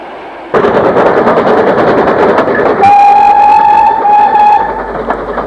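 An LMS 4F steam locomotive passes under a bridge on a single-track line between Mold and Denbigh in Wales, the heavy rumble starting abruptly and loud, then a long sustained whistle sounding over the train before fading.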